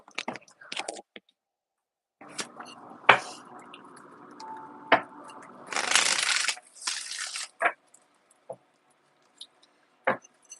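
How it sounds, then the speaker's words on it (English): Tarot cards are shuffled by hand in short, uneven bursts of soft riffling and slapping, close and fairly quiet, with pauses and a few light taps between them. "let me just shuffle them up and see what comes out."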